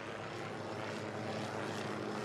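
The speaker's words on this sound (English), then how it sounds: "There are some military choppers flying above us right now." Military helicopters flying overhead in Afghanistan, a steady, loud droning rotor and engine roar that fills the whole stretch without a break.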